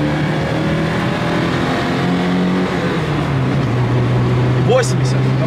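A BMW M5 F90 with a loose ignition lead revs hard as its wheels spin, a steady, loud engine drone rising and falling in pitch while people talk over it.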